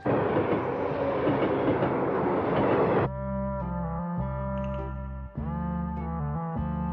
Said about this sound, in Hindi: चलो, हमें उधर से ट्रेन पकड़नी है।